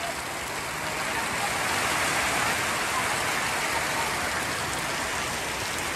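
Rain pours steadily at a village fair (jatra) in Mahind, Patan taluka, a dense, even hiss that holds at constant loudness for the whole stretch.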